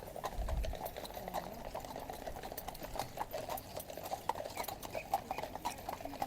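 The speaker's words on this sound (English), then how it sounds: "We have a lovely red or brown horse and a white horse here, with police ladies riding the horses." Hooves of two police horses, one reddish-brown and one white, clip-clop steadily on the road during a royal procession for King Charles, a continuous rhythmic clatter under crowd noise.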